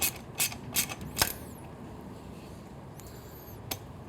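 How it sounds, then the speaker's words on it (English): A 12mm socket wrench ratchets on the lower header bracket of a Triumph Street Twin motorcycle, giving a few quick clicking strokes up close, then a quiet stretch and one last click. "Now we're going to tighten the lower bracket here. Got a 12mm wrench, 12mm socket."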